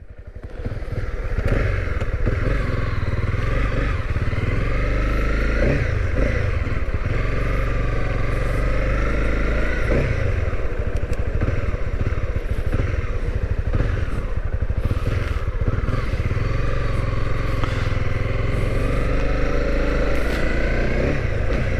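A Honda CB300R motorcycle with its stock exhaust cruises on a ride in Canada, its engine droning steadily and loudly throughout, with wind noise and slight variations in throttle.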